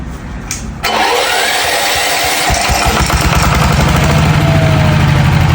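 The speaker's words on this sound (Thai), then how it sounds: "สตาร์ทเครื่องเลยเลย" A 180MAX horizontal-piston diesel farm engine cranks and catches after a brief moment, then settles into a loud, close, steady chugging idle.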